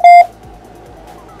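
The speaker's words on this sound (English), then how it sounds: "And that's the sound bar. You just heard that beep there." A wireless Bluetooth TV soundbar with built-in subwoofer gives a single short loud electronic beep as it is switched on by remote, followed by faint room quiet.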